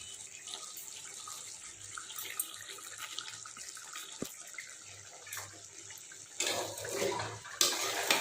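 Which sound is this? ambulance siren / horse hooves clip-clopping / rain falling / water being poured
water being poured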